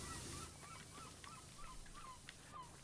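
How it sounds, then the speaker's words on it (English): A seagull calls repeatedly in the video game PowerWash Simulator, a string of short, honking cries in an even rhythm, faint and set against low background hiss. "I heard a seagull too"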